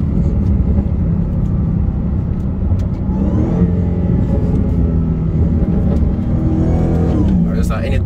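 Tuned Dodge SRT Hellcat in sport mode, the loud engine roaring and revving hard as the wheels spin, a close, continuous rumble that builds toward the end, with people talking over it.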